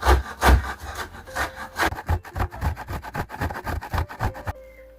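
A frozen stale baguette being grated into breadcrumbs, a loud rhythmic rasping scrape repeating quickly and steadily up close, each stroke a gritty burst, stopping abruptly near the end.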